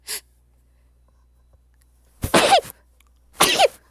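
Two sharp, close bursts of a sneeze-like sound about a second apart, each with a quick intake then a strong breathy expulsion, preceded by a brief faint breath, otherwise quiet.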